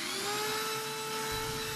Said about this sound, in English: I use a 80 grit flap wheel, nylon flap wheel in it, and it worked great.